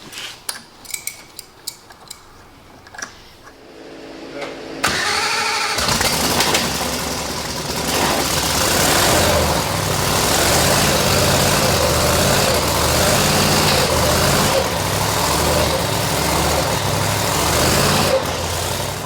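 EFI screw-blower car engine cranks after a few quiet clicks and knocks, then catches into a loud, steady idle with a rough, lumpy rhythm that holds to the end.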